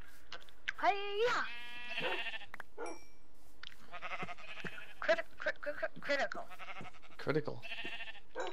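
Sheep in Minecraft bleat repeatedly in a wavering, electronic-sounding way over a steady background, with talking mixed in among the bleats.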